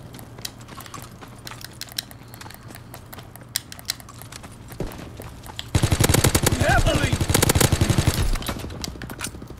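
Type 100 submachine gun in a WW2 video game team deathmatch, set to rapid fire, lets loose a loud, fast stream of shots in its second half, after quieter in-game noise and a few scattered earlier reports.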